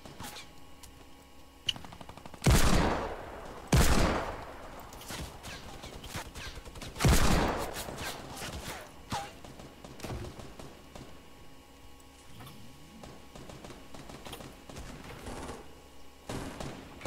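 Bursts of automatic gunfire from an SMG and other weapons in a Fortnite Battle Royale match, with loud close volleys around the start and middle and fainter scattered shots trailing off between them.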